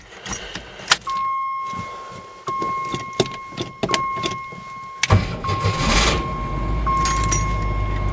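An Eagle car with a 258 engine, Motorcraft carburetor and Ford 300 ignition, close by: keys jangle and several sharp clicks, then the starter cranks and the engine catches and settles into a loud, steady idle.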